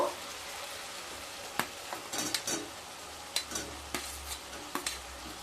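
Fried potatoes are added to a pan of sizzling spice masala and stirred. A spoon clatters and scrapes against the pan in scattered knocks over a soft, steady frying hiss, with no talking.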